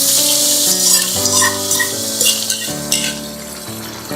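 Mustard seeds, urad dal and curry leaves crackle and sizzle loudly in hot oil during tempering for thandu keerai kootu, a dense continuous spatter up close, with faint utensil clinks and steady background tones; nobody speaks.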